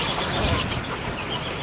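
Chickens cluck in a backyard chicken coop at a family house the day after Super Typhoon Uwan, a brief, busy and moderately faint flurry of fowl sounds.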